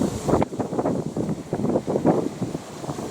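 Strong wind gusts outdoors where Baku pigeons are flown in Astrakhan, buffeting the microphone in loud, uneven rumbling bursts that rise and fall over about three seconds.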